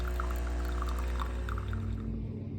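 Water pouring from a Nespresso Vertuo Plus coffee maker into a container during its first rinse cycle, a steady close splashing stream over a low machine hum.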